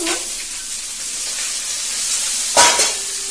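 Taro pieces and onion frying in a pan, a steady loud sizzle throughout, with a sharper burst of spitting and hissing near the end.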